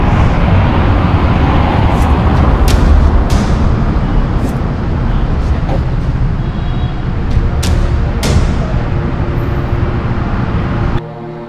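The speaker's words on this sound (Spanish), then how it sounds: "con pocos carros y alguno que otro carro que pasa por la avenida" Cars passing on a city avenue at night in Cúcuta, Colombia, a loud, continuous roadway roar with sharp transient clicks and rattles, ending abruptly, with no voices.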